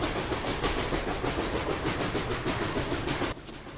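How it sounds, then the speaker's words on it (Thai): A train rolling in the video game Repella Fella, a steady rhythmic rumble and clatter of wheels that cuts off abruptly near the end as it comes to a stop at a station. "อ๋อรถไฟจอดเขาจอดเป็นสถานี"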